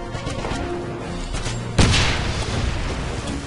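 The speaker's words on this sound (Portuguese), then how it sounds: "Mais granada." A grenade explodes in the World War II shooter Wolfenstein: one heavy boom bursts out midway through constant game noise.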